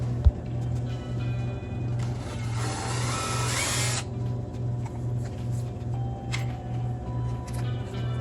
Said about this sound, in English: Next I drill a couple little holes to mount into the chuck of the lathe